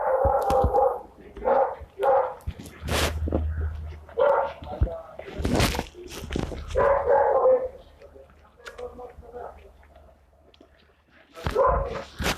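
A dog barks repeatedly in short bursts with some yips and whimpers, close and loud, alongside a person talking between the barks.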